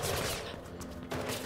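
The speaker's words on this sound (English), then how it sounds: "Don't shoot at me." Gunfire aimed at the player in the video game Mirror's Edge Catalyst, a dense, loud burst of rapid shots and impacts filling the whole short moment.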